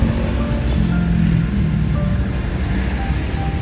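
Waves from Manila Bay wash in as a steady, dense rush of surf with no voices and no clear breaks between swells.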